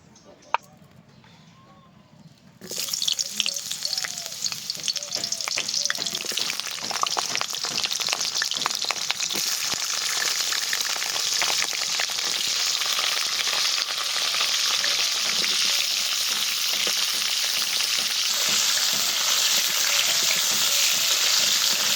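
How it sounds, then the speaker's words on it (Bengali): Pointed gourd and potatoes drop into hot mustard oil in a kadai after a quiet moment. A loud, steady sizzle takes over and carries on evenly to the end. "পটল আর আলুটাকে ভাজবো, তার জন্য কড়াইতে দিয়ে দিচ্ছি সরষের তেল।"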